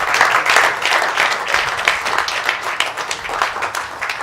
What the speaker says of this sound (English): Big round of applause in front.